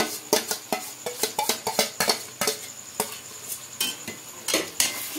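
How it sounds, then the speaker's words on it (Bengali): Chicken coated in marinated yogurt spice paste is stirred in a pan. A spoon scrapes and taps in quick irregular strokes over a faint sizzle, close and clear, with no voices. "একটু ভালো করে মশলার সঙ্গে মিশিয়ে নেব"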